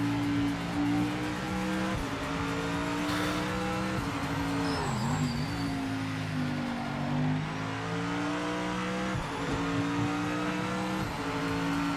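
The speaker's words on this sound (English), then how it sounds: "I'm driving so slow right now to just not crash the car because of this wheel." Race car engine in the Project Motor Racing sim game, a steady droning tone with shifting revs and a brief dip mid-run, held continuously and loud for the whole stretch with no talk over it.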